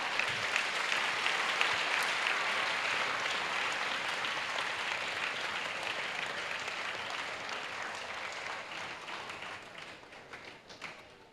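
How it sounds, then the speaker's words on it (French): Sustained applause from a congregation at a church salvation and healing weekend in Port-Bouët, a dense wash of many hands clapping together that holds steady and slowly fades. "Yes, clap."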